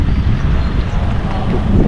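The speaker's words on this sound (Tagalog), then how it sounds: "Sarap ng hangin." Strong wind gusting across a beach in Boracay, a loud, continuous rumbling roar of air buffeting the microphone.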